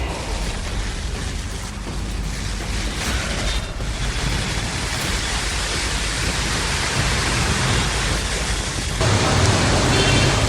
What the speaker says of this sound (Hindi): सोमवार को कुछ घंटे की जोरदार बारिश ने राजधानी दिल्ली को एक बार फिर पानी पानी कर दिया।